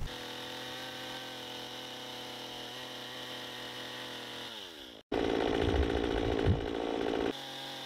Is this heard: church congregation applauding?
no